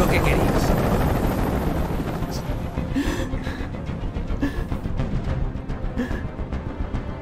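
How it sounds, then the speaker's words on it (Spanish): A helicopter in the Detroit: Become Human video game makes a loud, steady, close rotor roar that fills the whole clip, with voices and gasps over it. "¡Dile a ese helicóptero que se vaya de aquí!"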